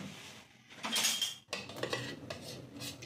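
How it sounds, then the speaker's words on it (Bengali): A metal kadai set down on a lit gas stove, giving a loud metallic clatter and scrape followed by further clinks of cookware and utensils, close up with no talking. "আর বসে গেছে এখানে কড়াই"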